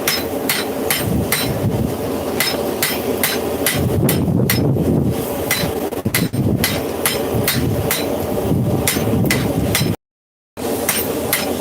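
Wire rope is struck with a hammer during forging in a long run of sharp, ringing metallic blows at a fairly steady pace, loud and close over a constant roaring background, broken by a brief gap near the end.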